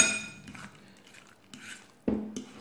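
Spoon mixing egg mayonnaise filling, with mustard added, in a bowl: quiet, sparse scrapes and light clinks, ending in one sharper knock against the bowl.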